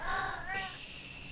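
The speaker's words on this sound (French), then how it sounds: "mais ça miaule toujours plus" A cat playing in a Christmas tree gives a short two-part meow, close and fairly clear over a quiet room.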